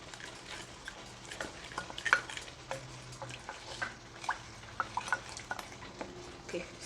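Royco mixed with water for a cabbage stew, heard as faint stirring with light clinks of a spoon against a small bowl or cup and soft liquid swishing in a quiet kitchen, no talking.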